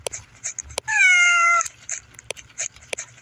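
A cat lets out one clear, loud meow lasting under a second, surrounded by scattered clicks and light background noise.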